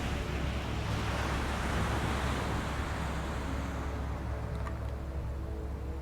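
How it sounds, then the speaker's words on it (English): Ocean waves roll steadily onto the shore at sunrise, a continuous broad wash of surf with a loud, even roar and no pauses, carried over a low rumble. "of the ocean coming into the shore"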